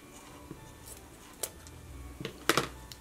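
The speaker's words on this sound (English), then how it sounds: "And then I'll just cut it right here." Scissors snip through craft material at a Christmas decoration workbench: a few short, crisp cuts close by, the sharpest pair near the end, with no talking.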